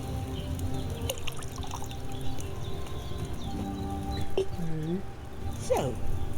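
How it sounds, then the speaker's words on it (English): Wine poured into a cauldron in the medieval game Kingdom Come: Deliverance II, a steady liquid pour running throughout beneath ambient game sounds and a few brief tonal chimes. "So, what did you pour in there? Wine, of course."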